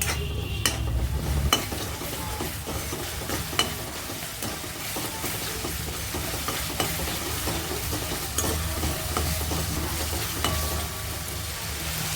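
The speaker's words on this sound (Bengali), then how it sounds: "মশলাটা আমার প্রায় ভাজা ভাজা হয়ে আসছে।" Spice paste seasoned with salt and turmeric fries steadily in a pan for a chhana bora gravy, a continuous close sizzle with stirring scrapes and occasional utensil knocks throughout, no voices.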